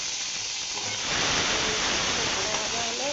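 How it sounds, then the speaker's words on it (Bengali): Shrimp hit a hot pan and the sound jumps from a quieter crackle to a loud, hissing, steam-filled sizzle that holds steady at close range. "চিংড়ি মাছ পুরা ভাজা ভাজা হয়ে গেছে"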